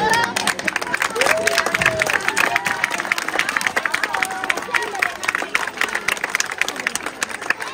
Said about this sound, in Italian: Allora facciamo un applauso anche a loro.